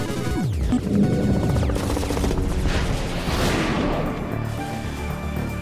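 Gunfire in the zombie shooter Left 4 Dead: rapid bursts of shots and crashing impacts layered over game music and whooshes, dense and loud through most of the stretch before easing toward the end.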